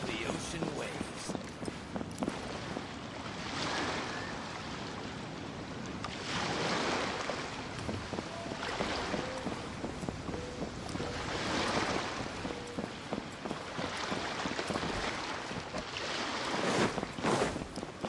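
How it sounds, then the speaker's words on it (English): Ocean waves in Genshin Impact roll in and recede in slow, regular swells of broadband wash, steady and moderately close, with a voice talking over parts of it. "The sound of the ocean waves."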